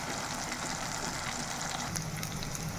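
Fish frying in oil in a pan on a stove for a crispy fish fry, a steady close sizzle and crackle of hot oil running without pause, with no talking.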